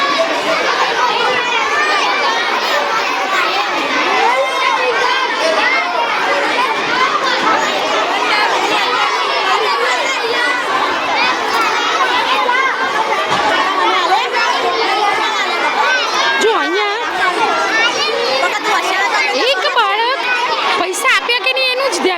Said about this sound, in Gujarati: પાણીપુરીના સ્ટોલ ઉપર ભીડ ઓછી થતી જ નથી.